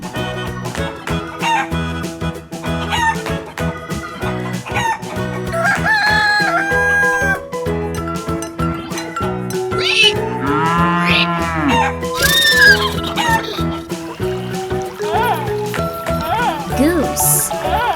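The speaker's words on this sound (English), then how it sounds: "Chicken." A rooster crows and chickens call amid a busy mix of farm animal sounds including cattle mooing, layered with steady background music and a voice talking throughout.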